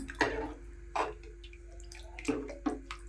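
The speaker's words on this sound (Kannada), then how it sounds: "ಗಟ್ಟಿ ಎಷ್ಟು ಬೇಕೋ ನೋಡಿಕೊಂಡು ನೀರು ಮಿಕ್ಸ್ ಮಾಡ್ಕೊಳ್ಳೋಣ" Water is poured and stirred into ground masala with cooked dal for a village-style greens saaru, giving a few wet splashes and sloshes close by, separated by short pauses.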